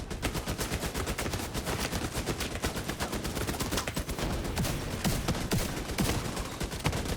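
Enemy turrets in a video game fire continuous rapid bursts of gunfire, a dense, loud, crackling stream of shots that runs without pause from start to finish.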